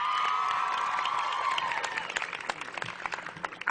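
A large crowd at a university commencement ceremony applauds and cheers, a dense steady wash of clapping with a few whoops that gradually thins out.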